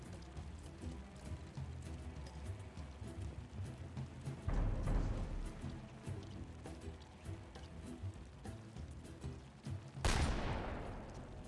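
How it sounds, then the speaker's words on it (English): Gunfire in The Lamplighters League, a tactical video game, crackling as a steady stream of scattered shots under game ambience, with heavier bursts around the middle and a sharp loud blast near the end. "Who's shooting who over there?"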